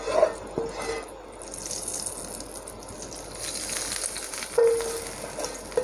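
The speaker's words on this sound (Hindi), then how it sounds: "हम इस तड़के को इस पर डालेंगे।" A hot tadka of spiced oil is poured over a yogurt and aubergine dish, producing a close hissing sizzle with brief sharp spits near the start and again toward the end.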